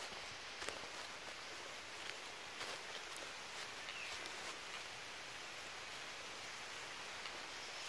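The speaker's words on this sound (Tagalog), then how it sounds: "Umuulan pa." Steady, soft rain hisses continuously at a distance during a mountain hike on the Mt. Malarayat range, with faint patters on surfaces and no voices.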